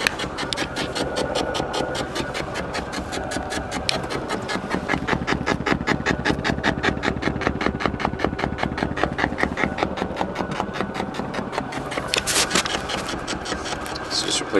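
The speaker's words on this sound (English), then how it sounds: "Static on all speakers." Static hiss from the radio on all speakers of a 1983 Volvo 240, a steady broadband noise with a rapid pulsing, engine-like buzz running beneath it the whole time, fairly loud and continuous.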